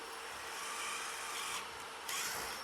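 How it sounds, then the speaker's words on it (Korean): A power drill bores pilot holes for steel screws into wooden door moulding, a steady close whirring grind that shifts in pitch briefly near the end, with no talk. "미리 이 철피스기 때문에 미리 구멍을 뚫어주세요"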